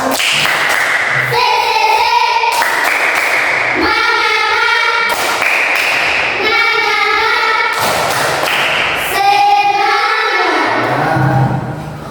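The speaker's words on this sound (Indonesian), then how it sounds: "Tepuk semangat." A class of schoolchildren performs the rhythmic 'tepuk semangat' spirit clap, loud sharp claps in repeated patterned bursts alternating with shouted chanting voices, filling the room.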